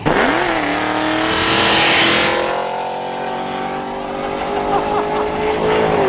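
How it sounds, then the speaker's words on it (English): A loud Cadillac engine, deep and droning, with a rising rev and roar at the start, then a sustained throaty rumble with harmonic whine that holds close and heavy throughout. "that Cadillac is so loud"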